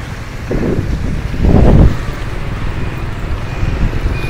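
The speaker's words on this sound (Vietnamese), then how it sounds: "Gió mạnh quá, này đi ngược chiều luôn." Strong gusting wind buffets the microphone on a rain-soaked Le Loi boulevard in Ho Chi Minh City, a steady low roar that swells into a louder blast midway, with no talking.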